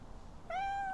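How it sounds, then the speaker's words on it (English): A single cat meows once, close and clear, a drawn-out cry rising out of quiet indoor room noise. "That's a... cat."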